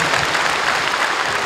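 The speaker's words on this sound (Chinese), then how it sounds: "你们要给他更大的、更多的鼓励的掌声" An audience claps for a singer at a televised singing-competition gala, a dense, even wash of applause filling the short moment with no voices on top.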